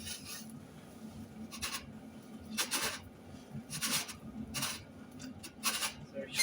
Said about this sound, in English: just twist it back just to tidy off any little burrs